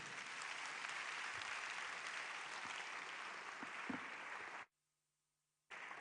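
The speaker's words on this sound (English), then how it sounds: "Let's clap our hands." Crowd applause at the IYES 2023 day-three morning session, a sustained even patter of many hands that cuts off abruptly near the end into near silence before resuming faintly.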